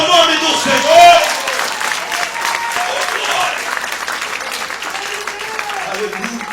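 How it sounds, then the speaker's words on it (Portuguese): Church congregation at an Assemblies of God service applauding the name of the Lord, a loud continuous roar of clapping mixed with cheering voices and crowd noise throughout. "Aplauda o nome do Senhor."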